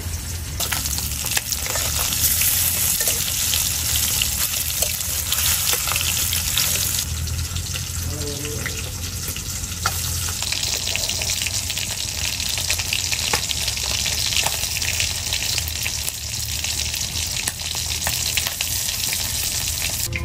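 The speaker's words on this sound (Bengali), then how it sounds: "মাছগুলো তো ভাজা হয়ে গেছে" Hilsa fish tails frying in a pan, a dense, loud, unbroken sizzle up close with light spattering and stirring noises throughout.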